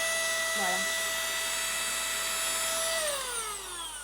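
A small rechargeable USB handheld vacuum cleaner whirs with a steady high-pitched motor whine, close and loud, then spins down near the end as the pitch drops away.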